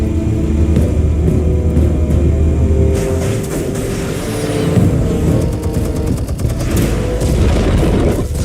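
Explosives detonate in the Batman video game: loud booms and crackling, gunfire-like bursts over a heavy, continuous rumble, with a denser burst of blasts partway through.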